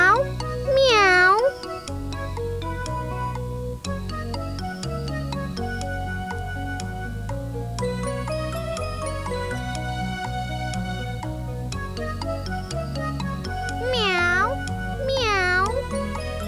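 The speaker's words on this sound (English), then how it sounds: "Oh, it's a cat." A real cat meows against steady, gentle children's music in a baby-development program, with one drawn-out meow near the start and two more close together near the end.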